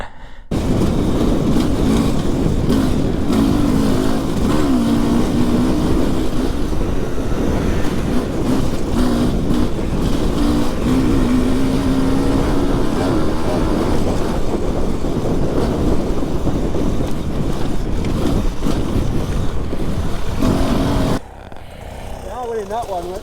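Motorbike engine revving and labouring while stuck in a bog on a night ride, a loud continuous drone with wavering pitch that drops off abruptly near the end.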